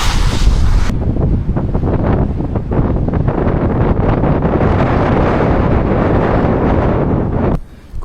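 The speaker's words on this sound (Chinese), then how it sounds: "刮得呼啦啦的风。" Strong wind gusts across open snowy countryside in foggy weather, a dense, continuous roar buffeting the microphone at close range and barely easing for about eight seconds before cutting off near the end.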